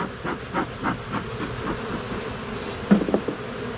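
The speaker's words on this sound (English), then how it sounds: "Lots and lots of bees." A dense swarm of honeybees buzzes steadily around an opened hive with frames of freshly drawn comb, a close, continuous drone with pulsing swells and a brief louder burst near the end.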